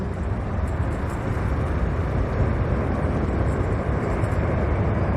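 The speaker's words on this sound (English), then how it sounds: "As these big engines start to push back now, you hear the thrust of those big engines." A C-17 transport jet at an airshow roars with reverse thrust while braking. The broad, steady engine rush is loud and unbroken for several seconds, with no clear voices.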